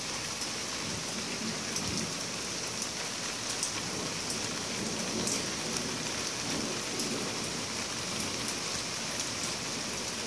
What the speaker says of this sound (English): I sleep very well to the sound of thunderstorms.